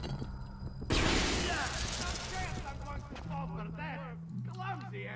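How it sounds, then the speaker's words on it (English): An EMP grenade in Splinter Cell: Conviction goes off with a sudden loud, broadband burst. A dense crackling wash follows and lingers for several seconds, with voices faintly underneath. "I'm going to throw an EMP grenade that way."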